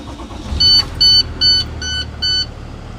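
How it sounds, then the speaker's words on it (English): A school bus being started, with five evenly spaced electronic warning beeps over a low, steady engine rumble. "So you start your bus up."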